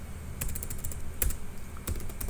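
Computer keyboard typing while entering a context variable into an output file path, a few quick clustered keystrokes and isolated taps with pauses between them, close and fairly quiet.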